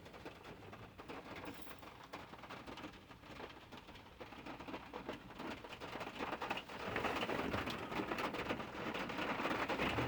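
Steady rain falls continuously, a dense broadband patter that swells noticeably louder and heavier in the second half.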